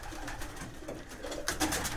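Young racing pigeons coo in a loft, with soft overlapping calls close by and a louder burst of cooing and wing rustle toward the end.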